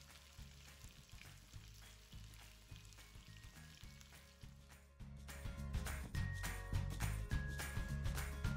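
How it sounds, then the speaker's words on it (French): Lamb marinade sizzling and frying in a pan, a close, continuous crackle that swells louder midway as more hits the hot surface, with occasional stirring sounds. "je vais faire revenir la marinade d'agneau à la poêle pendant 10 minutes"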